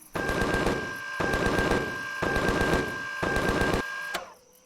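Automatic gunfire in the space survival game Empyrion: four long, loud, evenly spaced bursts of rapid shots with a ringing mechanical tone, then a final single crack as the firing stops.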